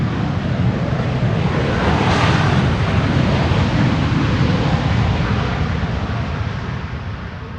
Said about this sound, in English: Ryanair coming in with reversers.